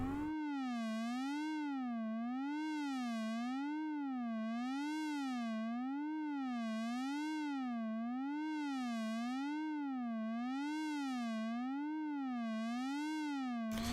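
Synth lead with a time-stretched, wobbling tone finished with reverb and delay, a bright harmonic-rich note bending up and down in a steady regular vibrato-like cycle, loud and constant throughout with no talking.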